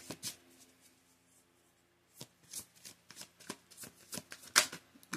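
Tarot cards shuffled close up, a quiet pause in the middle, then a steady run of soft riffling and slaps with one sharper snap near the end; no talking.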